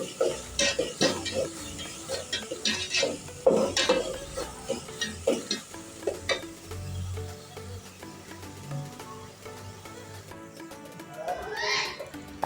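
Onion with ginger and green chili paste gets stirred in a pan for a garlic curry, bringing irregular close scrapes and clinks of a spoon over a soft sizzle, later settling into quieter frying.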